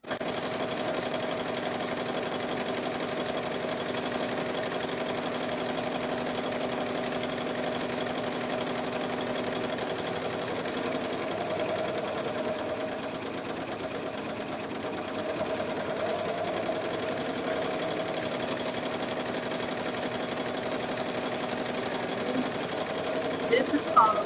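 A BAI 15-needle embroidery machine stitches a glitter HTV appliqué, humming steadily and evenly at close range for the whole stretch with a constant mechanical drone and faint rhythmic clatter.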